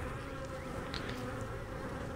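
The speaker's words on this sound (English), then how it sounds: "There's a few bees on the walls." Honey bees buzz in an opened hive during a queenless split inspection, a dense continuous hum that stays steady and close with no talking.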